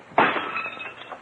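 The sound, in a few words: window glass being knocked out and breaking, radio drama effect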